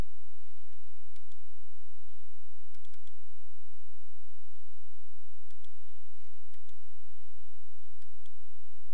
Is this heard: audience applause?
no